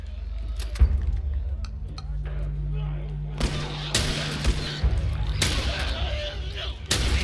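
Gunfire in The Last of Us Remastered, with several sharp broadband shots spaced across the clip over a steady low game rumble, with a player talking in between.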